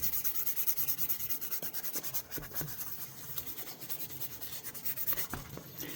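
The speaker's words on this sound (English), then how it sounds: "So when I start smoothing it off, getting rid of any scratches, making sure those molding lines are gone." Close, steady rubbing of abrasive sanding across the handle of a vintage shaving brush, smoothing away scratches and molding lines in quiet repeated strokes.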